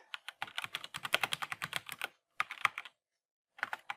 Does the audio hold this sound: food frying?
no